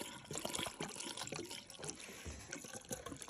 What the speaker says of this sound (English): We're going to flush the drain line by pouring the gallon water down to ensure proper flow.